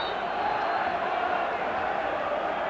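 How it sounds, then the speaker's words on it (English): A 1993 European match crowd at Rangers v Club Brugge roars in a steady, dense wash of cheering, with no break or swell across the clip. "So the crowd getting right behind them."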